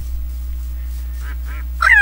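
Duck from the Betweenlands mod for Minecraft gives a short honking call near the end, after a stretch of quiet forest ambience, with a few fainter calls just before it.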